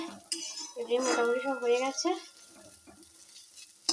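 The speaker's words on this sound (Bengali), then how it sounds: "উচ্ছে ভাজা চলছে" Bitter gourd fries in a pan with a soft sizzle and occasional clinks of a utensil, while someone talks over the cooking.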